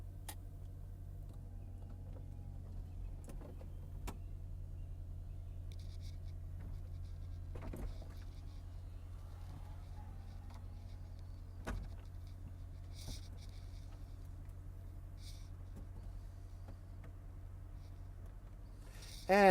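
The retractable hardtop of a 2010 Mercedes-Benz SL550 AMG roadster lowers with a low steady electric motor hum, punctuated by several mechanical clicks and clunks as the panels move and latch, fairly quiet and without talking.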